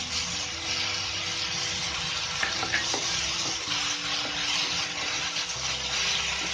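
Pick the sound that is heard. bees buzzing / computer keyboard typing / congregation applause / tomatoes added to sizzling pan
tomatoes added to sizzling pan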